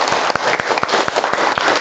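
A school class claps together in a classroom, a close, loud burst of quick overlapping hand claps with sharp individual strikes at an irregular rhythm.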